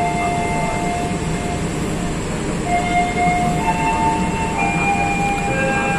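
Indonesian economy-class passenger train, KA Majapahit, rolling along the rails near Karawang station under a speed restriction, a steady broadband rumble with faint tonal whines and squeals rising partway through, no talking.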